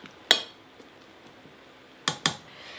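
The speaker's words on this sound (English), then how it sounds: "Make sure I get all those onions in there. I'm going to stir them in." Onions stirred into a pot of beef and mushroom broth, with one utensil clink against the pot, a pause, then two quick knocks close together, all near and fairly sharp.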